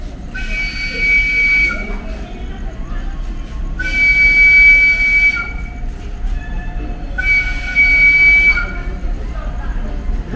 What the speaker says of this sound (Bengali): এখন বাজে 7:05, হর্ন মারতে মারতে আসছে। ওটা ট্রেন বলে তো মনে হচ্ছে না, মালগাড়ি।